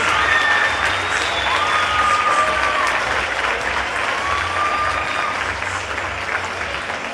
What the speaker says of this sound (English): on your feet, please, for one more round of applause for the seniors